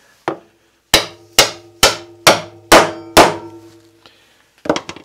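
A hammer taps a tenon into a mortise while a wooden workbench is built: six sharp, ringing blows land in a steady rhythm, then after a pause a quick flurry of lighter taps, close and loud.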